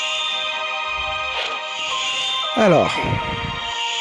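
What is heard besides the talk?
intro music of video game Final Fantasy Dissidia Opera Omnia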